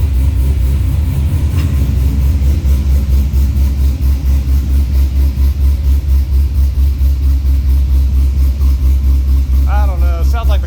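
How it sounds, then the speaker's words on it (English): Chevrolet Corvette Z06 with an Akrapovic catback exhaust idling after a cold start, a deep, loud, slightly choppy low rumble throughout, with a person talking over it. "This exhaust has a tremendous amount of low tones along with it"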